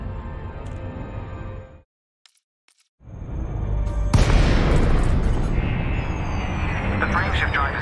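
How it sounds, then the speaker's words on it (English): Frame shift drive disengaging in the space game Elite Dangerous: a brief drop to near silence, then a deep rumbling boom that swells into a loud, sustained roaring wash of engine noise. "The frameshift drive is disengaged."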